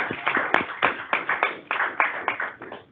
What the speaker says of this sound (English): we need to give a hand of applause for our GDOT staff